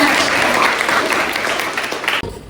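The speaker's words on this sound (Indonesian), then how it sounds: "terima kasih banyak tepuk tangan" Classroom of students applauding together, a loud, close, dense burst of clapping that cuts off abruptly near the end.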